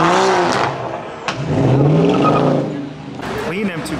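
Diesel car engine revving loudly up close at a car meet, rising and falling in pitch, with people talking excitedly over it.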